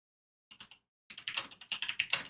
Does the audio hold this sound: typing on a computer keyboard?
yes